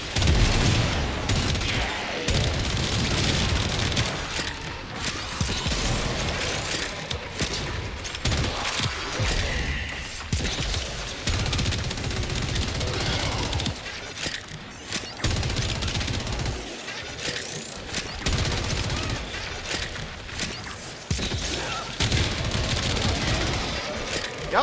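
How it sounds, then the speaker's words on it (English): Stahlta rifle firing rapidly in the video game Warframe during a Steel Path mission against Infested and Corpus enemies, a dense, continuous barrage of loud gunfire and impacts that fills nearly the whole stretch with only brief pauses. "Well, it does fire quite quickly with the mods I set up."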